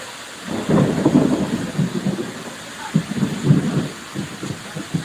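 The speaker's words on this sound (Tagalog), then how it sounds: "Sinabutan na tayo ng ulan." Heavy rain pours down outdoors with rolling thunder rumbling through, loud and close, with no talk over it.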